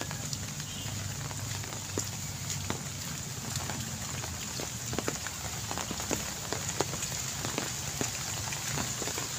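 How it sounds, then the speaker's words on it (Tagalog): Heavy rain pours steadily throughout, a dense hiss with scattered louder drops striking nearby surfaces, no voices. "Ngayon araw na itong malakas ang ulan."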